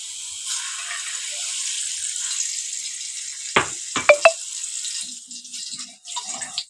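Cooking oil poured into a heated kadai, a steady watery hiss with a few sharp crackles partway through and a faint low patter toward the end.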